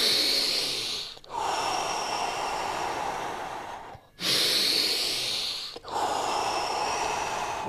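Deep, forceful breaths during a morning breathing exercise, long airy inhales and exhales in a slow cycle broken by short pauses, close and loud with no talking.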